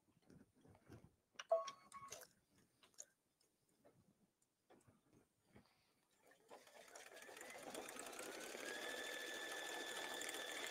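A Brother Luminaire embroidery machine starts stitching a tooth fairy pillow after a few quiet taps and clicks, then settles into a steady, fast mechanical whir that carries through to the end.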